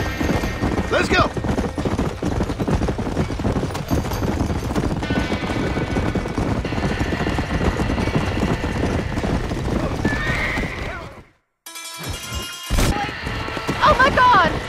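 In the Western video game Red Dead Redemption, horses gallop hard while pulling a wagon away from a burning barn. Loud, dense hoofbeats and rattling carry on under shouting voices, break off for a moment near the end, then return.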